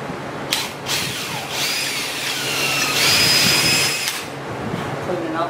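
Power drill cleaning out bolt holes on the metal parts of an old Althouse Wheeler windmill, a steady whirring grind with some high whine that rises in the middle stretch. It sounds close and runs continuously, with faint voices in the background.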